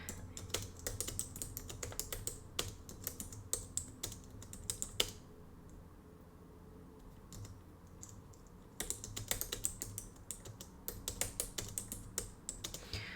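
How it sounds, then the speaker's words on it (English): Someone types on a computer keyboard nearby in quick irregular bursts of clicks, pausing for a few seconds midway before resuming a brisk clatter. "I have to type everything again"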